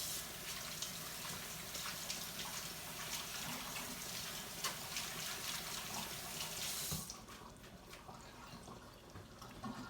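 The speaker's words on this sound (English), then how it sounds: "I'm gonna rinse off my hands." Hands rinsed under a running kitchen tap while cooking meatballs and sauce, a steady rush of water splashing into the sink that drops to a quieter trickle near the end, no one speaking.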